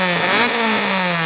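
A Honda EK9 Civic fitted with a B20 engine revs loudly and close by at a Japanese parking area, its engine note climbing and holding as a harsh, buzzing roar with no talk over it.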